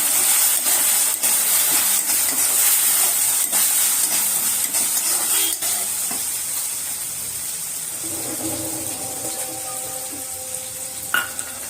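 Onion tipped into a pan of sautéed ground green chillies, a loud bright sizzle and hiss that gradually settles into a softer frying crackle with a few stirring clinks, no talk.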